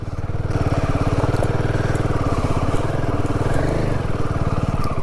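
A Royal Enfield Himalayan 450 motorcycle rides off-road near Belpahari in Jhargram, its single-cylinder engine thumping steadily and loudly close by with a constant rough throb throughout.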